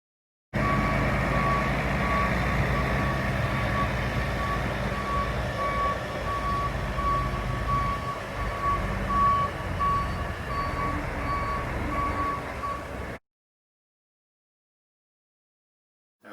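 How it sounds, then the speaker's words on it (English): Grain trucks reverse across a large parking lot near loading bays, a steady chain of high reversing beeps sounding over a constant low engine rumble for about twelve seconds before it cuts to silence. "there's a big parking lot here where grain trucks come in and U-turn and drive into the loading bays"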